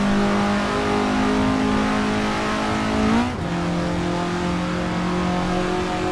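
A racing car in Assetto Corsa, the Szerszeń from Blok Ekipa, accelerates with a loud, steady engine drone rising in pitch, then briefly drops through a gear change near the midpoint and keeps pulling. No one talks over it.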